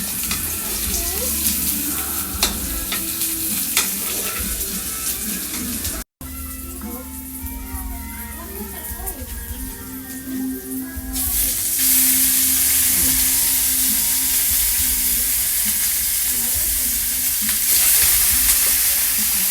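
Sinampalukang manok, chicken with tamarind leaves, sizzles and fries in a pan while being stirred, with a steady crackle and scraping, a brief cut partway through, and louder hissing toward the end.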